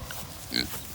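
Pigs in a pig field at a farm animal sanctuary grunt and snort at close range, with a short louder grunt in the middle over a soft outdoor background.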